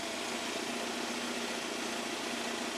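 A Mercedes 190E W201 engine idles after an oil change, a steady, loud, close-up drone with an even rumble that holds unchanged throughout, with no voices.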